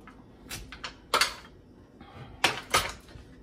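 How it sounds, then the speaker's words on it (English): Garlic crushed in a home kitchen while seasoning pork with fat, pepper and thyme for Haitian griot, Jamaican style: a few sharp crunching presses and knocks at close range, clustered in two bursts, with no talking. "Some of the garlic, then crush them a little bit"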